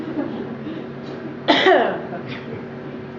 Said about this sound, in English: There's my poetry cough.